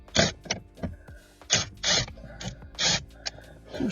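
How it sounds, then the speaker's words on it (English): Removing screws from a Lexus IS center console during an RC console upgrade: a run of short, close mechanical clicks, scrapes and plastic creaks with brief pauses, heard alone without talk. "Then we're going to remove the screws."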